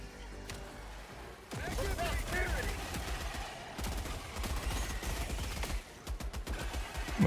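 Machine gun fire in a video game, set to a slowed 450 RPM rate with a small magazine, rattling in dense repeated bursts with brief pauses while someone talks over it.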